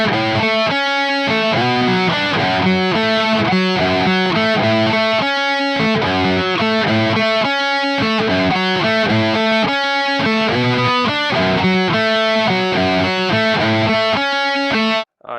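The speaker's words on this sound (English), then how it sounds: "It's really hard to play arpeggios this way, especially with the distortion on" Electric guitar with heavy distortion plays rapid sweeping arpeggios, bright sustained notes running in a fast repeating pattern that is loud and close, with brief gaps between phrases and an abrupt stop at the end.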